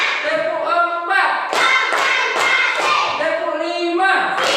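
A school class plays a counting clap game, chanting numbers together and answering each count with a sharp, unison hand clap, roughly every half second. The claps are loud and near, mixed with group voices.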